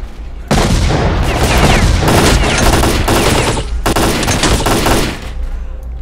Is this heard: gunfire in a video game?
yes